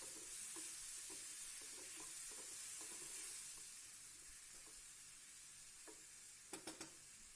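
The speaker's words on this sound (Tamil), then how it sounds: "இது போட்டுட்டு நீங்கள் நல்லா சாட்டே பண்ணணும்." Paneer masala ingredients sauté in a pan with a soft steady sizzle, broken by a few light stirring scrapes and taps, faint and close with no talking.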